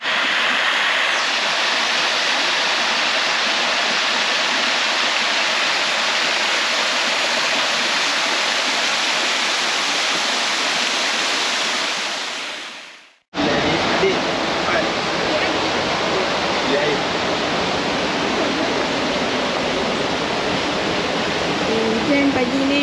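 Rainwater pouring down a hillside after morning rain, a loud, steady rushing like a stream or waterfall that cuts out briefly partway through and then resumes.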